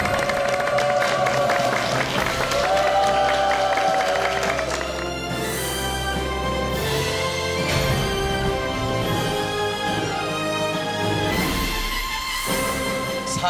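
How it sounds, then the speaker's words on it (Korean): Studio audience on a Korean health talk show claps and cheers, with sustained applause filling the whole stretch over a music bed. "박수로 환영해 주십시오"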